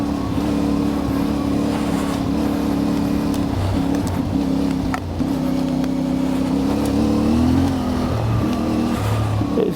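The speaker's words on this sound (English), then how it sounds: "I'm afraid for those of you that like the sound of the bike, I've only got the one mic in today in my helmet." A CF Moto 450MT motorcycle rides a wet trail, its engine droning loud and steady from a helmet-mounted microphone, with the pitch shifting as the throttle rises and eases, and wind noise throughout.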